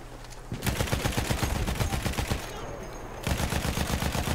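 Lewis gun light machine gun firing in the video game Battlefield 1, loud rapid automatic bursts of gunfire, a long sustained stream broken by a brief lull before firing resumes.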